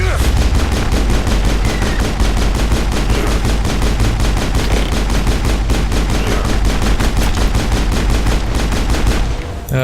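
Sustained heavy gunfire in the Mass Effect video game: a dense, loud automatic fusillade of rapid evenly spaced shots that runs continuously for about ten seconds, with no clear talking over it.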